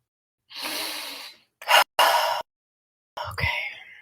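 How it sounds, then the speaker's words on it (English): During a relaxation exercise, a person takes a deep breath in, heard close and alone as a few separate airy gasps and breaths with short silences between them. "And let's breathe."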